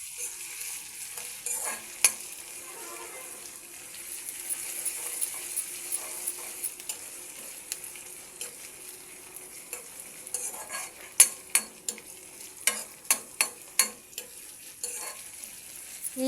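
Eggplant pieces frying in a pan with onion paste, a steady soft sizzle running throughout with scattered sharp clinks and scrapes of a utensil stirring, the taps bunching together near the end.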